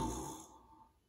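A voice imitates a tired witch snoring, one short breathy snore that starts loud and fades out over about a second.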